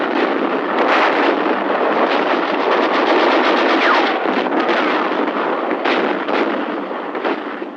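Dense, sustained gunfire and booming blasts of World War I trench warfare on the Western Front, with rapid machine gun bursts running continuously throughout, loud and crowded, with no talk.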